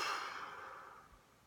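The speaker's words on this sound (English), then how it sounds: "Just a deep breath and a slow exhale." One slow, deep exhale during a breathing exercise, a soft, close, airy breath that gradually fades with no talk.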